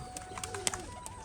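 A soft, low coo from a male pigeon, brief and fairly faint, with light tapping sounds nearby.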